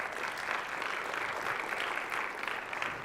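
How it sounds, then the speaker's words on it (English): Audience applause at a tech conference session, a steady wash of many hands clapping that holds evenly throughout without any speech over it. "actually, that was good applause"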